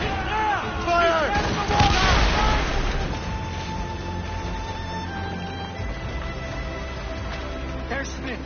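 Ships' guns fire on command in a broad, booming volley that follows loud shouted orders, then fades into a long, low rumble.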